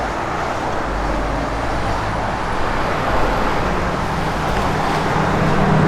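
A 1972 Plymouth Road Runner with a 440 engine running, a loud, steady, continuous rumble that holds an even level throughout, with no talk over it.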